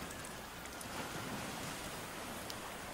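Sea waves roll beyond a fence by a guesthouse, a broad steady hiss of surf that stays even and fairly soft for the whole stretch, with no talk.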